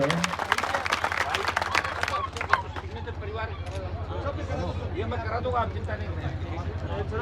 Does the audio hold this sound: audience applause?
yes